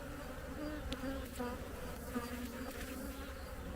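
Honeybees in a hive colony produce a dense, continuous buzzing drone, close and steady, with a few individual bees flying past.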